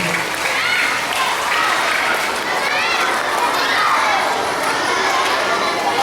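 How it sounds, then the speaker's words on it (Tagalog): Loud, sustained applause from a school audience greets students after their Buwan ng Wika performance at an elementary school, with children's chatter and cheering mixed into the clapping throughout. "Bigyan natin muli ng malakas na palakpak ang ating mga kamag-aral sa kanilang pagtatanghal"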